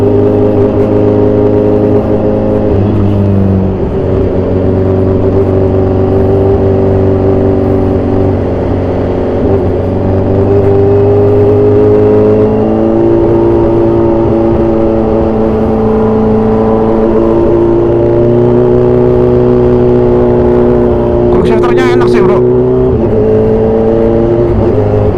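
A heavily modified 2014 Kawasaki Z1000 Sugomi motorcycle engine runs loud and close, holding a steady droning tone with rising and falling revs throughout, no talking.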